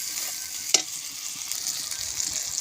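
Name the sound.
chopped tomato frying with spices in a pan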